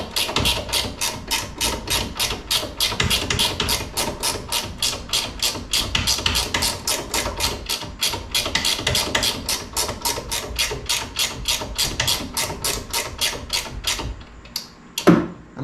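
Hand ratchet tightening the bolts on a narrowed VW beam; rapid, evenly spaced clicking runs continuously and close-up for about fourteen seconds, then stops with a couple of final clicks.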